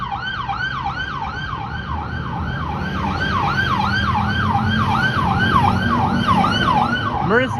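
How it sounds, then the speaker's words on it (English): A fire truck siren wails in rapid repeating up-and-down sweeps on a Toronto street, loud and steady over traffic rumble, with a brief sharp rising tone at the end. "Hey, it's a fire truck."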